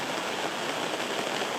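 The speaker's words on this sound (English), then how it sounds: "There's a little bit of water coming through the roof at the moment because you can probably hear the rain" Steady rain pattering on a leaky roof, a dense continuous hiss of drops filling the whole clip with no voices.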